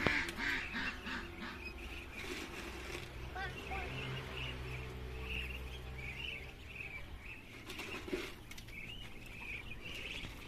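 Muscovy ducks quack and chatter faintly in a flock while being fed, with people talking over them throughout.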